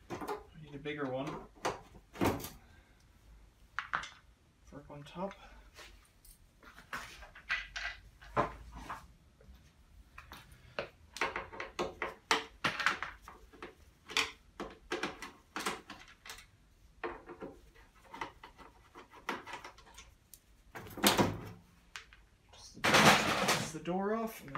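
The door of an AEG washer dryer is worked off its hinges, with scattered clunks, rattles and metallic knocks at close range and speech in between.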